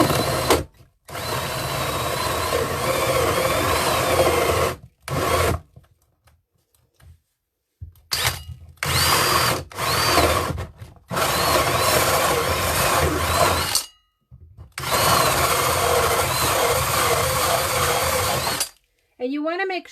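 A power drill bores through a board to make clay extruder dies on a workbench, its whine running loud and close in several long bursts separated by short pauses.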